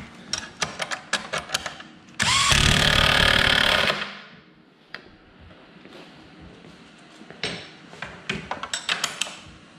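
A power tool tightens parts on the skis of a Polaris Matryx snowmobile in a garage, giving one loud, continuous burst of about two seconds between scattered clanks and handling noises.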